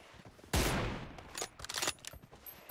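A sharp, loud gunshot from a sniper rifle in PUBG Mobile cracks out and echoes, followed by a scatter of quieter distant shots and pops.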